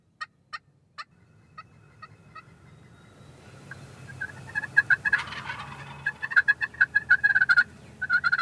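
Wild turkeys gobble from a food plot about 60 yards from a hunting blind, sharp rattling calls spaced apart at first, then faster overlapping bursts as several birds join in, fairly distant but clear.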